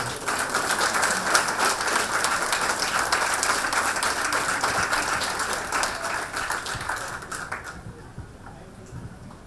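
Steady applause from an audience, many hands clapping together for several seconds before fading out at the end.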